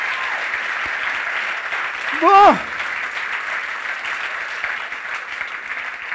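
Audience applause at a conference on life purpose, steady sustained clapping from a room full of people, with a single voice speaking briefly over it midway.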